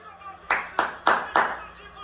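One person watching a Beşiktaş–Trabzonspor football match claps four times in quick succession after a goal. The claps are close, sharp and evenly spaced.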